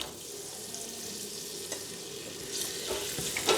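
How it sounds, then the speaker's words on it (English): Onions browning in a pan give a soft, steady sizzle throughout, with a few faint stirring clicks and light knocks near the end. "And I want to brown these onions till they're nice and light golden."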